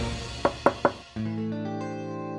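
Three sharp knocks in quick succession on a bedroom door, close and distinct over a steady music bed that swells louder right after the knocking.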